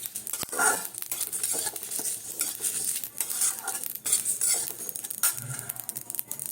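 Ajwain, radhuni and curry leaves fry in hot oil in a kadai with a steady bright sizzle, while a spoon stirs and scrapes the pan in close, irregular clatters.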